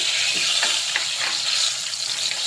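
Chopped vegetables sauté in a pan for a Kerala fish curry, a steady close sizzle and frying hiss with light scraping stirs throughout.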